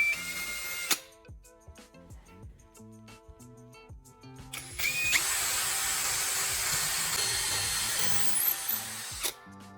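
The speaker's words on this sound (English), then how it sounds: "I drill 2 holes near the base of the V, one on each side" A few knocks and clicks, then a power drill whirs steadily for several seconds, drilling holes in wood, before cutting off abruptly.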